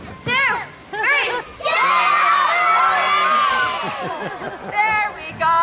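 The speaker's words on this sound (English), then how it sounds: "On the count of 3, we're all gonna yell as loud as we can." A crowd of children and adults yells together as loud as they can on a count of three at an elephant show at African Lion Safari, a sustained, loud, close shouted roar with excited whoops.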